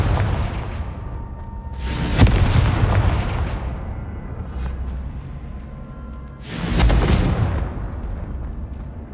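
Two booming blasts from the Confringo spell in the video game Hogwarts Legacy, each a loud close explosion with a long rumbling tail fading away, separated by a few seconds of low background rumble.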